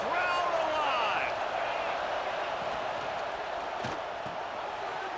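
Stadium crowd noise from the EA Sports College Football 26 game, a steady, dense roar of a large crowd during a red zone play, with a few whistles and shouts early on and a sustained level throughout.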